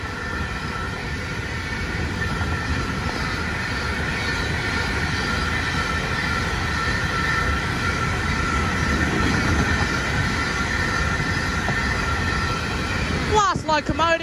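A train led by locomotive TT 102 rolls steadily through Menangle station, a continuous loud rumble and wheel noise with a sharp squeal near the end.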